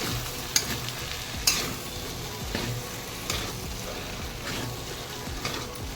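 Potato bhaji with a squeeze of lemon gets stirred in a frying pan: a continuous close sizzle with repeated scraping strokes of a spoon every second or so, no voices.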